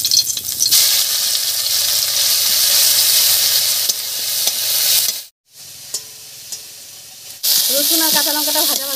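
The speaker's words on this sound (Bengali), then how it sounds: "তেল গরম হয়ে গেছে, তেলের মধ্যে দেব রসুন আর কাঁচা লঙ্কা বাটা।" Garlic and green chilli paste hitting hot mustard oil in a wok, a loud sputtering sizzle that drops to silence midway, then resumes with crackling and a hissing squeal near the end.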